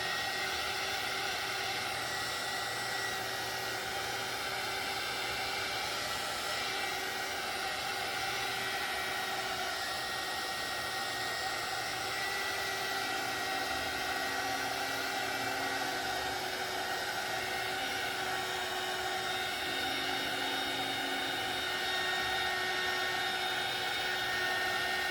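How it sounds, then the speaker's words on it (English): A heat tool blows steadily to dry paint on a craft project, a continuous close whooshing hum with a whine in it that runs unbroken for the whole stretch, with no talking. "I'm gonna heat dry this."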